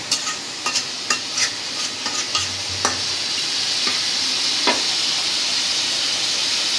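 Giant freshwater prawn bhuna sizzles steadily in a pan, a continuous hiss broken early on by a few sharp scrapes and taps of a stirring spoon.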